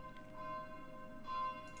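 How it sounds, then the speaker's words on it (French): Church bells ring on a snowy Sunday evening at six in Lausanne, heard from a home beside the church: sustained bright tones hang steadily, with two louder strikes swelling around half a second and again near one and a half seconds. "Peut-être que vous entendez les cloches qui sonnent chez moi, je ne peux pas lutter, il est 18 h, dimanche soir"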